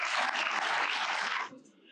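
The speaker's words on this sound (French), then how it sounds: "je vous demande un tonnerre d'applaudissements pour lui" Loud, dense applause from an audience at a jubilee speech event in the Vendée, sustained for about a second and a half before abruptly thinning to a few scattered claps.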